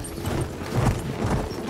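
Horse hooves galloping in the Battlefield 1 video game, heard as a quick, uneven clip-clop rhythm close by. The steady thudding fills the whole short moment with no talking over it.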